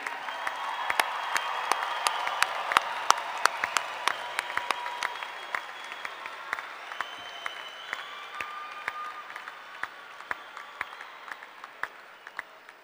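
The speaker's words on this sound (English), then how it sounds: "Let's give another hand, a round of applause" A crowd applauds at a university commencement ceremony, with scattered individual claps standing out, fairly distant, gradually thinning and fading over the stretch.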